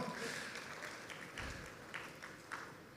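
A church congregation at a Sunday service claps together, a dense, somewhat distant wash of applause from many hands with a few sharper claps standing out, at low level throughout.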